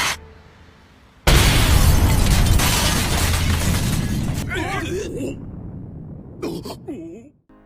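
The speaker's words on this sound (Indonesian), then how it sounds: "pukulannya itu mengeluarkan efek ledakan yang sangat dahsyat hingga memecahkan kaca" Huge explosive blast from a karate strike in an anime fight, a sudden loud boom that shatters glass, then a long crashing, rumbling decay, followed by brief voices.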